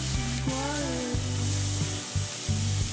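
Something frying in oil until reddish sizzles steadily in the pan while low tonal hums and a few scraping knocks sound alongside it, with no one talking.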